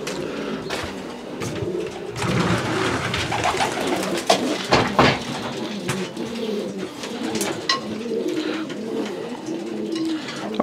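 Racing pigeons coo steadily inside a loft after a long-distance race, with soft overlapping calls and occasional wing flutters close by throughout, no talking.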